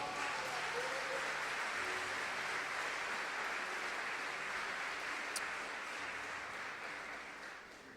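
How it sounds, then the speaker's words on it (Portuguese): A church congregation applauds during a sermon, with steady, moderately distant clapping from a crowd that carries on evenly and gradually tapers off. "Dê um aplauso ao Senhor"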